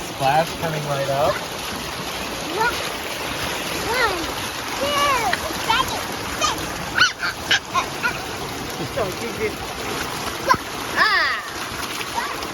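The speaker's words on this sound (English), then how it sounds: "One splash coming right up." Splashing in a backyard swimming pool continues throughout, with water sloshing close by while a dog yips and whimpers and people talk and shout excitedly over it.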